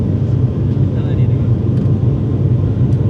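Airplane cabin noise during a first flight, climbing through the clouds after takeoff. A steady, loud low-frequency roar and rumble persists throughout the cabin, with a faint voice in the background.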